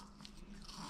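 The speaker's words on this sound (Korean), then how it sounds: "자몽아, 여기서 편하게 먹어" A newborn Maltese puppy, about 18 days old, eating at close range, with soft continuous biting and crunching sounds and no talk.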